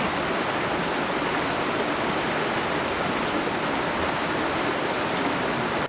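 Fast-rushing river water roars in a dense, steady broadband wash, close and loud with no pauses and no voices over it.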